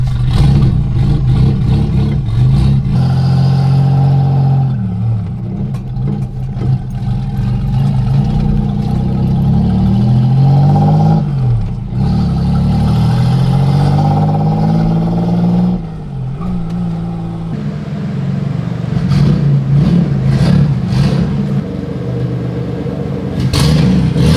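A 1986 Nissan 300ZX with a custom exhaust and an engine misfire drives along. A loud, steady exhaust drone rises and falls through shifts and throttle changes for the whole stretch.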